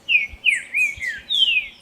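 A trinca-ferro (saffron-billed saltator) sings a short, clear whistled phrase of several bright slurred notes, close and loud against quiet background.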